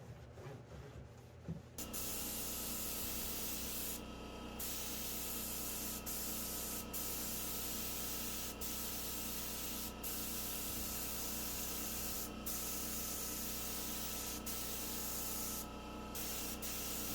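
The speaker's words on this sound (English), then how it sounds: "we are ready to start spraying that second coat of primer" Steady, continuous hiss of a spray gun applying a second coat of primer to furniture, with brief pauses in the spraying, close by and fairly even in level.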